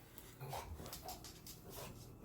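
A pet dog barks and whimpers at the arrival of the mail, a few short excited yips and vocal bursts close by in a room, with no one speaking.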